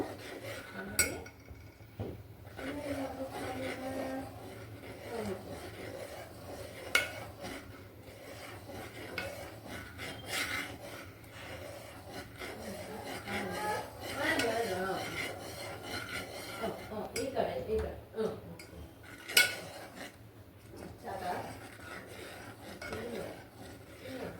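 Boiling milk curdling with lemon juice in a pot for rasmalai made from milk powder, stirred with a spoon that gives steady scraping and rubbing sounds against the metal pot, with occasional clinks throughout.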